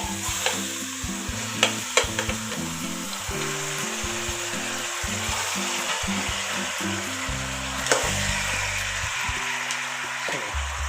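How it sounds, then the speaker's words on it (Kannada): Chicken pieces are fried with onions in a pan for chicken sambar, giving a continuous sizzle with repeated stirring clatters, set against steady background music. "ಆಮೇಲೆ ಚಿಕನ್ ಹಾಕ್ತಾಯಿದ್ದೀನಿ."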